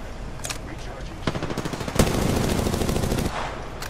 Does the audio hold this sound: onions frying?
no